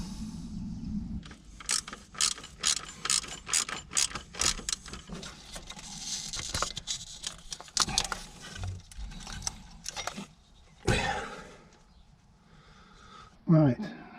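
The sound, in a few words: ratchet undoing a bolt on a Ford Transit alternator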